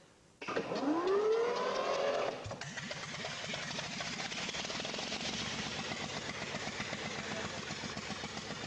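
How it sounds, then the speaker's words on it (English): The 34-horsepower three-cylinder diesel engine of a Ruston Bucyrus RB 10 excavator starts on a deck, a loud rising whine for two seconds before settling into a steady, close, rhythmic running chug. "This 3-cylinder engine chucks out 34 horsepower on a good day."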